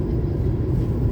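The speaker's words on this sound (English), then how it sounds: "We were traveling so slow that this same train kept catching up to us." CTA train in the Chicago area rolling slowly past, a steady low rumble and rail drone held at close range throughout with no voices.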